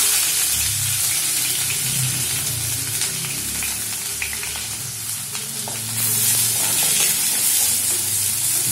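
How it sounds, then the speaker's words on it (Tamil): Chana dal and onion sautéing in hot oil for a spicy paniyaram tempering, a steady close sizzle with occasional stirring scrapes, growing louder and brighter near the end. "இதெல்லாம் நல்லா ஒரு நிமிஷம் சாட்டே பண்ணிக்கோங்க. இந்த வெங்காயம் ஆட் பண்ணிக்கலாம்."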